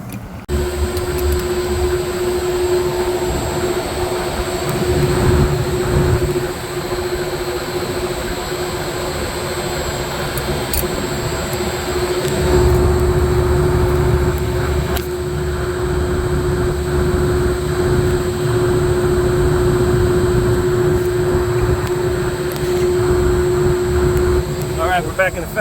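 Refrigeration rack compressors start up and run steadily, a loud continuous machine drone with a strong tonal hum, more low-frequency rumble coming in partway through, in an equipment room.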